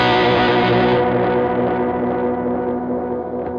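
Electric guitar through a delay effect set to many repeats with some blues overdrive, a sustained distorted chord washing out as echoes pile up, loud and alone.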